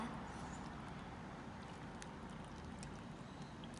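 Water poured steadily into a self-heating mala hotpot, a soft, continuous splashing pour heard alone at close range for several seconds.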